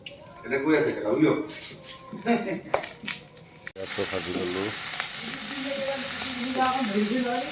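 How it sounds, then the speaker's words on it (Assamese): Someone talks over soft sizzling at first, then a steady, louder frying hiss of bay leaves in hot oil carries on close by while the voice continues. "তেজপাত ভাজি লৈছোঁ।"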